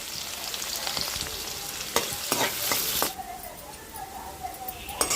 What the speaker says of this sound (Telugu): ఇవైతే వేగిపోతున్నాయి